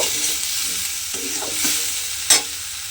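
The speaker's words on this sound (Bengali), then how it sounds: "সবজির সঙ্গে মশলাটা খুব ভালোভাবে একটু কষিয়ে নেব" A spice paste and vegetables sizzle steadily in a pan while a spoon stirs with soft scraping strokes. A sharper clatter comes near the end.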